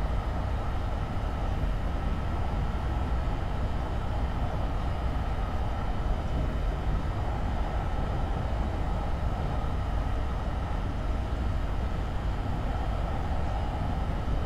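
A commuter train in the Train Simulator game runs from Croton-Harmon toward Grand Central, a steady, unbroken low rumble and rolling hum that holds evenly throughout with no voices.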